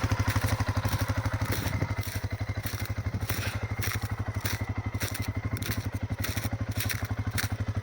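A CF Moto 400 motorcycle engine idles steadily nearby with a fast, even thumping pulse and a light mechanical clatter.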